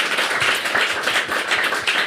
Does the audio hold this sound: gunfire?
no